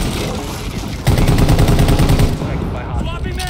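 Rapid automatic gunfire in a Rainbow Six Siege match, loud and dense, bursting in after a second over steady game noise and continuing in sustained volleys.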